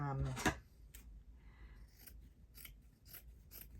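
Scissors cut through a piece of linen in a few crisp snips at close range, after a short burst of voice at the start.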